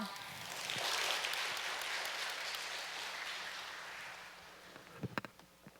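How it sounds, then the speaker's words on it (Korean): An audience at a peace-festival lecture gives welcoming applause for a UPF vice president. The broad, steady clapping swells early, holds for several seconds and then fades, with a few sharper claps near the end. "신인선 부회장님을 환영의 박수로 모시겠습니다."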